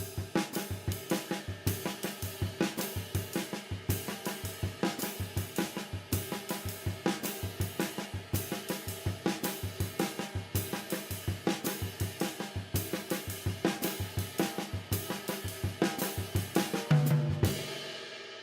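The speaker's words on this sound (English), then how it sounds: "Now I'm going to start it out with the bass drum." A drum kit figure launched on the bass drum and repeated in a steady driving pattern, with regular punchy low thumps and cymbal wash continuing throughout, close and prominent.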